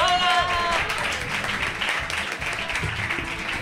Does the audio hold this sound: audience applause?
yes